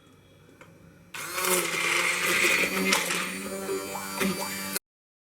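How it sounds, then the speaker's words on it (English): An immersion blender whirs loudly and steadily for several seconds, its motor pitch wavering as it churns through tomatoes and onions, then cuts off abruptly. "I'm using my immersion blender to blend this up."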